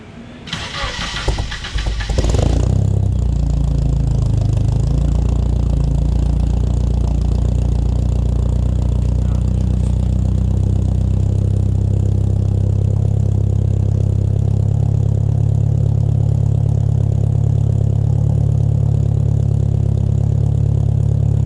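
A car engine with a new full 3-inch TIG-welded exhaust and a slight exhaust leak cranks and fires up, then settles into a loud, deep, steady idle that rumbles on without a break.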